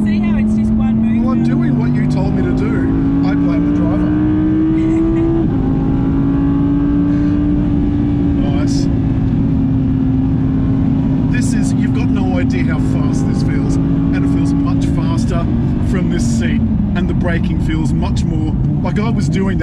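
An Audi RS performance car lapping the Phillip Island race track, its engine droning loudly and rising in pitch under acceleration, then easing off, with occupants talking over the steady cabin roar.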